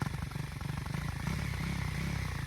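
A 2024 KTM Duke 390 single-cylinder engine runs at low RPM, a steady close, rhythmic throb with a faint mechanical clatter.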